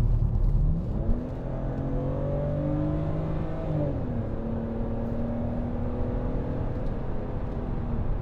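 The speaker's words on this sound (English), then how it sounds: "once I get the wheels straightened up, I'll boot it" 2011 BMW Z4 sDrive23i roadster accelerating hard: engine note climbs sharply, drops at a gear change, then climbs again, heard from inside over steady road rumble.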